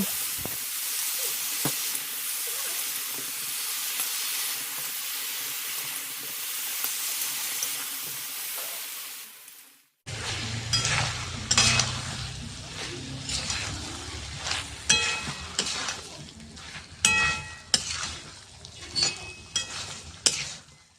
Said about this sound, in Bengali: পেঁয়াজ কাঁচা লঙ্কা সব জিরে সব কিছু ভেজে নিয়ে তারপরে আমি সবজিটাকে দিয়ে দেবো